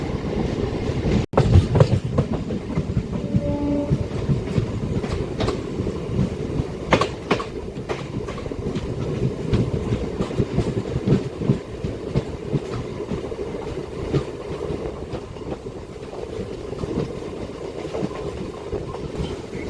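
Memu local passenger train travelling between Bodhan and Karimnagar, steady rumble of wagons on rails with faint rhythmic clatter and occasional squeaks, heard from inside the moving train throughout.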